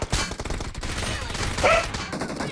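Gunfire in the mobile battle-royale game PUBG Mobile, a dense loud burst of rapid shots lasting throughout, with game noise around it.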